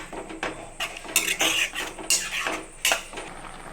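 A spoon stirring milk into bottle gourd halwa in a pan over medium heat, with repeated scraping and clinks of metal against the pan in an uneven rhythm, close and clear, no voices.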